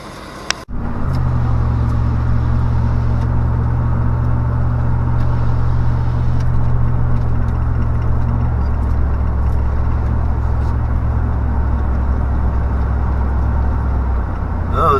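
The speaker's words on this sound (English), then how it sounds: "Oh, the truck's running good." A 2000 Chevy truck engine starts and settles into a steady, loud, close idle after a water pump replacement, a deep even rumble holding without pause.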